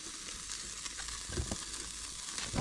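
Chicken sizzling on the mesh of a barbecue built from a recycled car rim at a riverside bush camp, a faint steady crackle with a few soft clunks.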